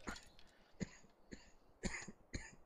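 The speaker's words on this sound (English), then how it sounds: "Who's coughing?" A person coughs in a series of sharp, separate bursts, about five coughs spread unevenly across a few seconds, fairly close and moderately loud, with no talking.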